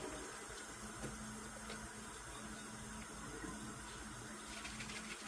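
Water runs into a bottle from a tap in a continuous, quiet trickling stream with small splashing bursts, steady and faint throughout.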